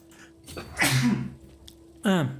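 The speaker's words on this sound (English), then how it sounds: "That was a bit of a sneeze." A single loud sneeze bursts out alone after a few seconds of quiet room tone, preceded by a short inhaled buildup and a faint earlier breath.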